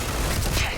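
A baton melee strike in the space game Starfield lands as a short, dense thump of combat noise, loud and continuous for under a second with no talk over it.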